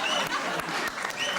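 Applause for a hero rises from a crowd as a dense, steady wash of clapping, fairly faint and continuous throughout, with a hint of chuckling mixed in.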